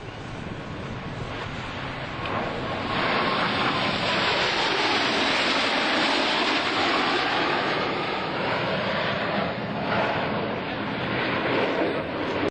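Blue Angels Diamond, four US Navy jets in tight formation at the 2002 NAS Oceana air show, sweep past as a loud, steady broadband roar that swells and holds for several seconds, with wind buffeting mixed in.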